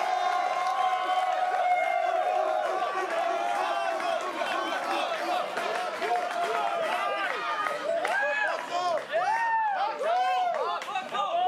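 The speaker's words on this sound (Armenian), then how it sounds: "Give it up for the best man." Wedding guests clap and cheer for the best man in a loud, sustained round of applause, with crowd chatter and an announcer's voice through it.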